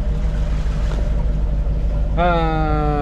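A Volvo Penta sailboat engine drones steadily at sea during a crossing from Ajaccio to the Lérins islands, a loud continuous hum with a tonal whine rising near the end.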